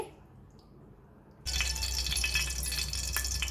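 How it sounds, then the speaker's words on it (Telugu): Tap water runs steadily over salted dried fish being rinsed in a kitchen sink, starting abruptly after a quiet moment and continuing as a close, constant splashing flow with no talking. "తర్వాత నార్మల్ వాటర్తో టూ టైమ్స్ కడగాలండి"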